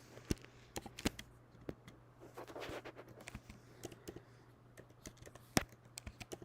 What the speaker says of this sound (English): I'm going to type in here, hello